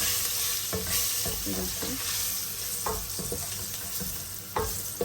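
Curry leaves and spices fry in hot oil in a pan, making a steady bright sizzle punctuated by repeated scraping and knocking from stirring, close and fairly loud, with no talking.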